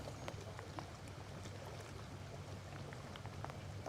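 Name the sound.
rain falling during a fishing trip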